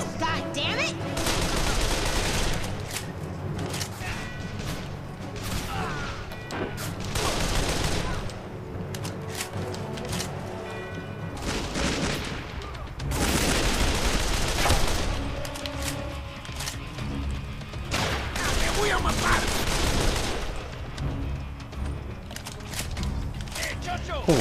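Gunfire rattles through a shootout in Call of Juarez The Cartel, with bursts of rapid shots and machine-gun fire rising and falling over about twenty-five seconds, mixed with mechanical clatter and people talking throughout.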